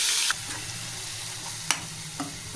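Onion and green chillies frying in ghee and oil for a mushroom masala curry, giving a steady close sizzle with a few sharp utensil clicks and scrapes over it. No voices are present.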